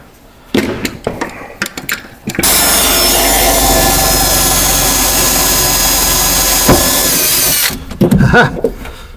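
A power drill whirs loudly and steadily for about five seconds as it bores into the floor of a Ford F-150 truck, bracketed by shorter bursts of drilling and rattling at the start and end.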